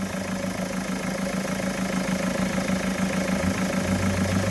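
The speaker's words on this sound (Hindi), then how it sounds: "आवाज़ भी कर रहा है कंप्रेसर" A Mahindra XUV 500 idles with its AC compressor running, a steady mid-pitched mechanical hum and rhythmic engine throb that hold evenly, close and loud, from start to finish.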